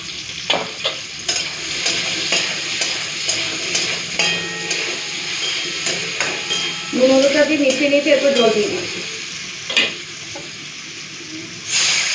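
Raw mango chutney fries and is stirred in a pan after the spice tempering, giving a steady close sizzle with scraping stirring strokes and a brief squeaky scrape midway; no one talks.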